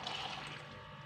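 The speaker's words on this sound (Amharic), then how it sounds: "መፍላት ስላለበት ውሃ ጨምራለሁ።" Water pours steadily into a pot for about a second, a soft continuous splashing and filling sound heard alone at low volume.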